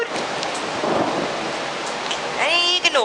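Heavy rain pours steadily through a severe summer thunderstorm in New York City, with thunder rumbling beneath, and a brief tonal chirping rises near the end.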